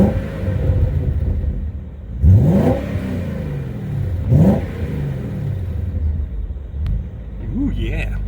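A 2003 BMW M5's engine is blipped twice from idle, each rev climbing sharply and falling back. A low exhaust rumble sits between the revs, heard up close with some faint talk.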